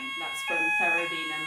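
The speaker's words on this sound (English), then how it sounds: "That is our fire alarm going" A building fire alarm rings with steady, piercing electronic tones running throughout, while a person talks over it at close range.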